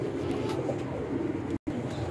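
A Sialkoti pigeon, kept among birds for sale in Lahore, coos softly and up close in a low, repeated throaty murmur with a brief gap near the end.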